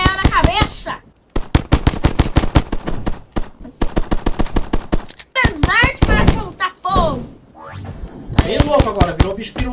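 Rapid bursts of gunfire in the video game Zumbi Blocks, with machine-gun rattles and single shots in quick succession, while a young voice talks excitedly between and over the shots.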